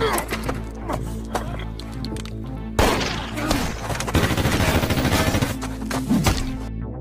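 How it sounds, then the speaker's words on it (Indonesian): Gunfire in a film scene rings out as a rapid burst of loud, overlapping shots, cracking in quick succession, with a louder volley following a sharp impact midway. "Bradley lantas menembak Pedro dan Roman."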